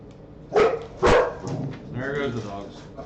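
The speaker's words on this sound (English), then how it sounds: "There goes the dogs." Dogs bark nearby indoors, two sharp loud barks followed by softer yips and whining, with some talking mixed in.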